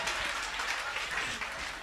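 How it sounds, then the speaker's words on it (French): A comedy club audience in Abidjan gives dense, even applause for a short stretch. The clapping is fairly soft and no voices stand out. "Applaudissez pour moi, s'il vous plaît."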